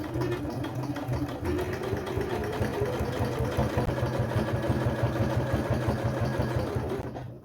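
A sewing machine stitches caravan curtains in a steady, even run of mechanical chatter that lasts several seconds close up and then stops.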